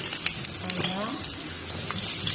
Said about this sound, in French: Là, nous allons cuire notre courgette juste un peu.